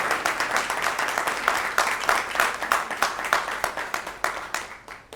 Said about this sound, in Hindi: एक बार जोरदार ताली से आप उनका स्वागत करें